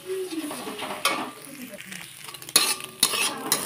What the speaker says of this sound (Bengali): ডিমটাকে ভালোভাবে ভেঙে দিয়ে আমি ভেজে নিচ্ছি